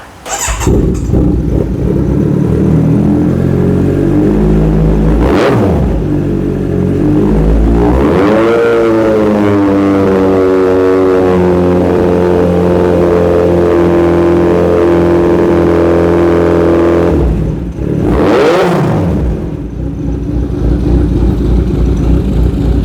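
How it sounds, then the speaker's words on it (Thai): Kawasaki Z900 Special Edition from 2017 fitted with a titanium exhaust, engine idling then revved up in repeated loud blips with rising and falling pitch, close to the bike. "มาขอฟังเสียงเครื่องยนต์หน่อยครับ"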